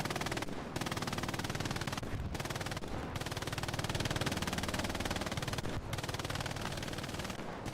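Machine gun fire from an MG position in Hell Let Loose: long, steady automatic bursts broken by a few brief pauses, loud and close, with no talk over it.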